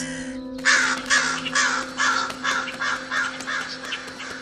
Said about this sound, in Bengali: এই কাকটা তো কানের কাছে কা কা করে ডেকে আমার মাথাটা খারাপ করে দিল।